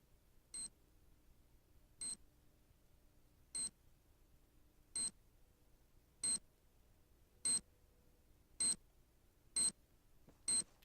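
A planted bomb in the shooter game Critical Ops beeps sharply and electronically, nine evenly spaced chirps that come gradually faster, over a faint quiet background with no talking.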